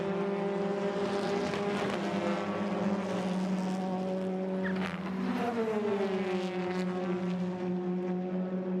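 TCR Europe touring race cars at Le Castellet roar loudly and continuously, engine notes rising and falling as cars brake into the chicane and accelerate away, several machines overlapping in a dense racing drone.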